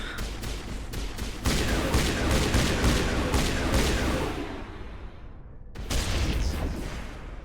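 Sniper rifle gunfire from the Mass Effect video game, a loud rapid run of sharp shots followed by a rolling, decaying boom, then another burst near the end, with no talking over it.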